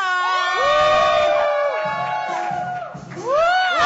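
A live audience at a Thai singing-competition concert screams and cheers loudly, with shrill whoops and sliding high-pitched shrieks rising and falling continuously across the whole stretch.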